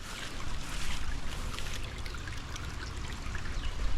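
Rainwater rushes along a stream channel in rural Konkan after a downpour, a steady, close broadband gush with slight surges and no talk.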